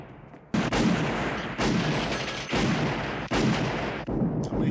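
Gunfire from the 1982 film 48 Hrs. comes as a series of loud, booming shots, about five of them, spaced roughly a second apart, each followed by a heavy lingering rumble, with no talking over them.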